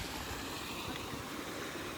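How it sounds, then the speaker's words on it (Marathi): Rain-swollen river water flowing fast in the Konkan countryside, a steady, loud, continuous rushing wash with no voices. "मस्त पाणी वाहत आहे"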